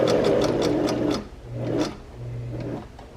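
A sewing machine runs a quarter-inch seam, stitching forward then back-stitching in short bursts, loud and close, with brief pauses between runs and no talk.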